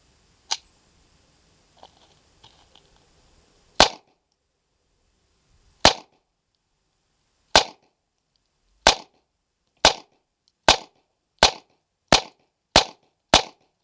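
A USFA Zip 22 rifle fires Winchester M22 rounds, sharp single cracks that start sparse and then come faster and evenly spaced through a full magazine, loud against near silence.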